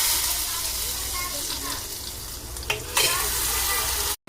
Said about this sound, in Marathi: चला आता फोडणी घालते.